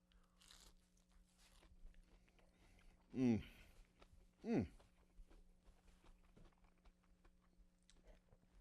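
Two crunchy bites into fried Thai coconut shrimp, close and sharp, with soft chewing and faint background noise between them.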